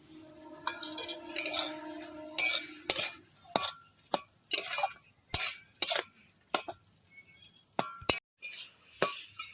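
Fish curry stirred in a cooking pot, a series of distinct scraping and clinking strokes of a utensil against the pot with short pauses between them, no voices.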